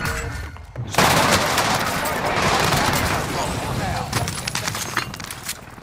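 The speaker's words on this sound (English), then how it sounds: "Allied cluster strike arriving." Cluster strike explosions in Call of Duty: Warzone come as a dense, rolling barrage of booms and crackling blasts. A sudden loud onset fades into scattered impacts, with game voice callouts over the top.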